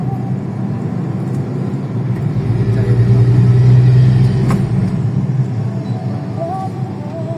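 City traffic at night in Pasig heard from inside a moving vehicle, a steady low engine and road rumble that swells briefly as heavier vehicles pass nearby.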